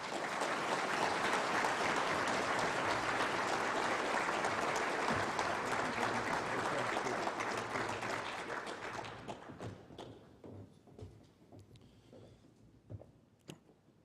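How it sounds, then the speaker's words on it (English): At an Eagle Scout recognition dinner, the banquet audience gives sustained applause for about nine seconds before it tapers off into scattered claps, taps and room noise. "Please join me in a round of applause for our"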